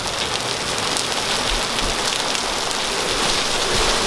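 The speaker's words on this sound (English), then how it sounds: "It's raining so hard." Heavy rain pours down during a thunderstorm in a dense, steady roar, loud and close, with no voices.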